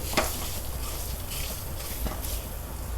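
Red curry paste stir-fried over low heat in a pan gives a soft, steady sizzle with a few scraping stirs of the spatula, close by and fairly quiet.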